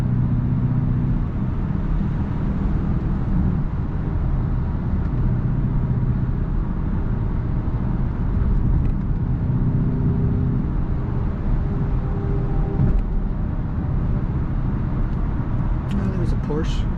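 A BMW X5 M50i with a 530 hp biturbo V8 cruises on the Autobahn, its engine a steady low hum blended with continuous road and wind noise; someone speaks over it at times.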